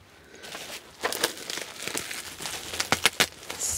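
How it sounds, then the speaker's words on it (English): A gift wrapped in bubble wrap is unwrapped at close range, giving loud crinkling and crackling plastic that builds into denser crackles and pops toward the end, with no talking over it. "Slightly bubble wrappy unwrapping noise."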